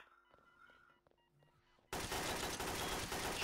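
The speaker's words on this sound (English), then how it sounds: "He's still trying to shoot me." Gunfire erupts in the Garry's Mod video game: after quiet electronic tones and faint clicks, a loud, dense burst of rapid shooting starts abruptly and continues to the end.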